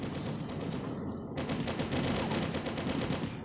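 Rapid automatic gunfire from the Mini Militia video game rattles on continuously, a dense, loud burst of shots that barely lets up.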